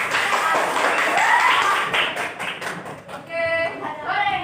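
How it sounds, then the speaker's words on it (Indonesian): Classroom pupils clap together for a student group, a burst of sharp claps and taps near the middle, with children's voices and chatter around it. "tepuk tangan dulu untuk kelompok"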